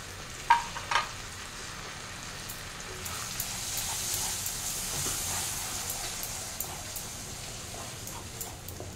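A paste of tomato, ginger, garlic and green chili sautéing for chole, a soft continuous sizzle with a couple of sharp knocks at the start and faint scattered clicks of stirring, no talk.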